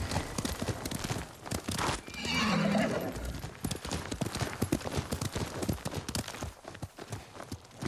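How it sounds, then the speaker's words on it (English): A horse in the Ghost of Tsushima video game clip-clops steadily on the ground, close and rhythmic, with a whinny breaking in partway through. "Yuriko's horse."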